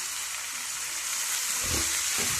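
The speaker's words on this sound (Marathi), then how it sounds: "आता हे पाने टाकल्यानंतर आपल्याला एक ते दीड मिनिट ही भाजी अशीच परतून घ्यायची आहे" Radish leaves and vegetables sautéing in a pan give a steady, close sizzling hiss that grows slightly busier with stirring near the end.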